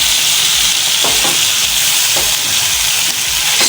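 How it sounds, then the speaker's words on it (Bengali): Fried chicken pieces are stirred into a tikka masala spice base in a hot pan, making a loud, continuous sizzle broken by scraping stir strokes. "এবার এই ভেজে রাখা চিকেনগুলো এর মধ্যে অ্যাড করে দেবো। ভালো করে মিশিয়ে নেব।"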